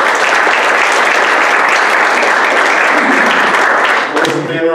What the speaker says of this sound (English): if you please applaud after each one